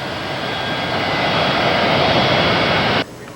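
An aircraft on emergency approach to a runway produces a loud, steady engine roar that builds slightly before cutting off abruptly near the end, with no speech.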